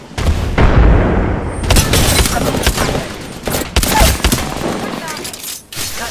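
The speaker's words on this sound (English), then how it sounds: "Throwing frag." Frag grenade blast and gunfire in the battle royale game Apex Legends, with repeated loud booms and bursts of rapid shots filling a dense, chaotic firefight under occasional voices.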